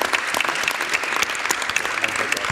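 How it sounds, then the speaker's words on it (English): Conference attendees at a road safety governance session give the panel a brisk round of applause, close and fairly loud, with individual claps distinct within the crowd's steady clatter. "a round of applause for our panel"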